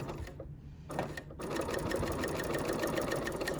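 A home sewing machine stitches a fat-quarter tote bag, its needle clattering in a fast steady rhythm after a brief pause near the start, close and moderately quiet.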